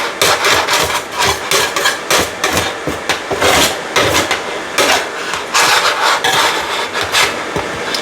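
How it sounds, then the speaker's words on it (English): A utensil scrapes baked-on cheese off a breakfast casserole lid in quick, repeated, close strokes, a rough rhythmic rasping with no talk over it. "scrape off what I can so I don't have all that go to waste"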